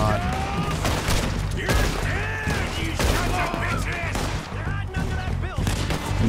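Heavy, continuous gunfire in Red Dead Redemption 2 during a train robbery, overlapping loud shots and booms filling the whole span, with shouting voices mixed in.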